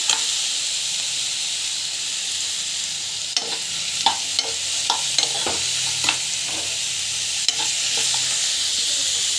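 Tomatoes sauté in a pan for mutton gravy, giving a constant hissing sizzle, with a run of spoon scrapes and light knocks in the middle, close up and without voices.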